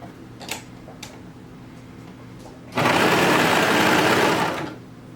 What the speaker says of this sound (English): I'm just going to sew this edge really quick.